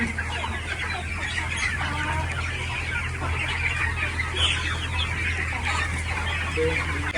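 Desi hens and freshly hatched chicks cluck and peep busily on a poultry farm with hatching trays, a constant crowded chatter of many birds over a steady low mechanical hum.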